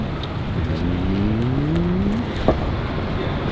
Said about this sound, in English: That's a one wheel.